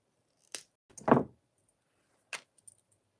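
A keychain with a wire-wrapped charm jangles in a few brief metallic shakes and clinks, close and fairly quiet, with short pauses between and no voices.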